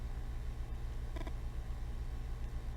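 Low, steady rumble of car traffic on city streets inside a video game, a continuous near drone with a brief faint higher tone midway and no talking.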